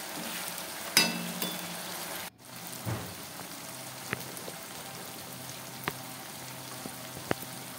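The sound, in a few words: onion, tomato, ginger-garlic paste sautéing in pan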